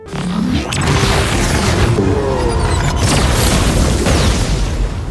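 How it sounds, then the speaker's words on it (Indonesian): Deep, continuous roaring blast of a building exploding from a super weapon in a Sonic film, loud and rumbling throughout with crackling debris and whooshes. "Kekuatan senjata itu membuat seisi bangunan meledak"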